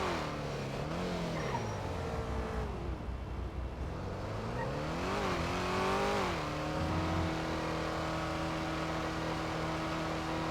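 A car engine in GTA revs up and down repeatedly, pitch rising and falling, then holds a steady drone.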